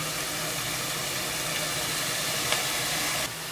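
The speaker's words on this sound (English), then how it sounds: "Oh, that's my favorite sound. That sizzle." Ham and onions sizzle in a hot pan for red beans, a close, steady, dense hiss with a small pop partway through, no talking.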